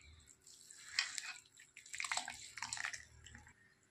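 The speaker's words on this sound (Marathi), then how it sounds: "असं 1-2 पाण्याने स्वच्छ धुवून घेणार आहे" Dried fish being washed by hand in water, irregular splashing and dripping in two clusters of sloshing, close and fairly quiet, with no talking.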